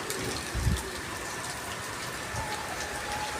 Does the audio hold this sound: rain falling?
yes